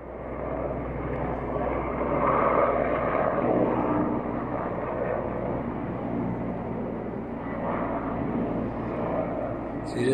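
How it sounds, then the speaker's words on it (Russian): Helicopters pass overhead as a steady, continuous rumbling drone that swells and fades slightly across the clip, heard outdoors with no talking. "Интересно, вертолеты какие-то"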